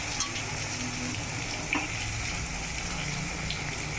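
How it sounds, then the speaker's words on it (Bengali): Thick eggplant slices frying in hot oil in a wok, giving a steady, even sizzle throughout with a couple of faint clicks and no voices. "তো এই যে বেগুনটা কড়াই দিয়ে দিয়েছে"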